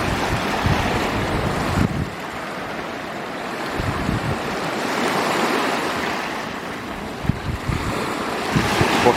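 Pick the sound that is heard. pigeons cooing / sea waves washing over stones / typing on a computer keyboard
sea waves washing over stones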